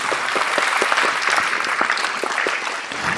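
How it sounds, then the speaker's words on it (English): Full, energetic applause from the concert audience, close and continuous, with distinct individual claps standing out in the dense clapping. "huge round of applause for them."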